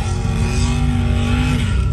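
A loud, steady engine roar from a racing truck under hard acceleration on a drag strip pass, holding a sustained drone with no voices over it.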